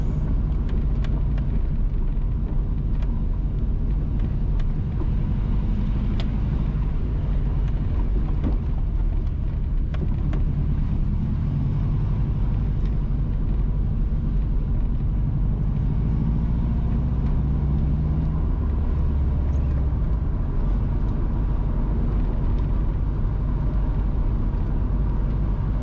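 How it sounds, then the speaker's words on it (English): A car drives along the rural Frankfort to Gayle Road in St Mary, Jamaica, heard as a loud, continuous low rumble of engine and road noise throughout, with no talk. "We are driving on the Frankfort to Gayle Road."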